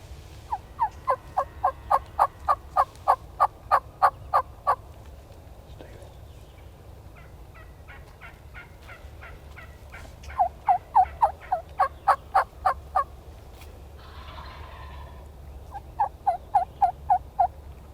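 Osceola wild turkeys gobble on opening day of the spring season, repeated rapid gobbling bursts from fairly close birds, with quieter gaps between them and a few faint calls toward the end.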